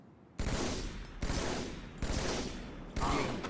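Battle Rifle fire from Halo 2 comes in four loud, sharp bursts, each a rapid rattle of shots separated by short pauses.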